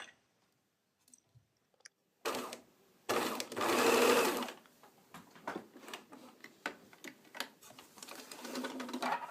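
A sewing machine stitches a seam on fabric near a garment neckline, finishing with a back stitch: a short burst, then a loud sustained whir, followed by quicker stop-start stitching with clicks, close up and with no voice.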